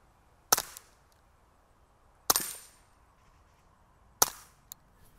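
Three sharp, loud .22 rifle gunshots ring out at a home shooting range, evenly spaced about two seconds apart, each trailed by a brief echo and a faint metallic ping from a target.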